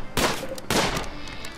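Gunfire in the colony-building game Rimworld as a deer is hunted: two sharp, loud shot bursts about half a second apart, each trailing into a brief noisy decay, with no talking.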